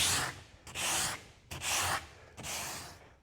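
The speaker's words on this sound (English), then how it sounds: "after I get these spots sanded" Epoxy spots on a kayak are sanded by hand in four rhythmic, scratchy strokes, each a close, dry rasp separated by brief pauses.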